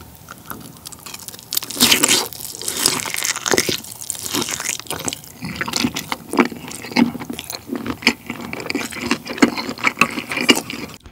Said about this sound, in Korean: 페퍼도 한번 먹어볼게요